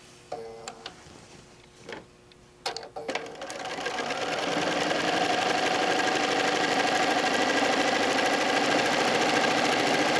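A home sewing machine top-stitches around a fabric placemat made from a panel, with the stitch length set longer. A few ticks and brief starts lead into a loud, steady, rapid whirring run that continues to the end.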